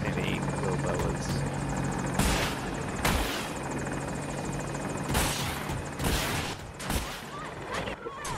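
A Little Bird helicopter in a video game thrums steadily with rotor chop, while sharp bursts of gunfire crack over it at irregular intervals.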